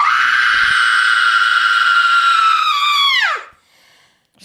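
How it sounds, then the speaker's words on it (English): A woman's long, shrill horror-movie scream holds loud and steady for about three seconds, then bends downward and breaks off into near silence. "shrill scream."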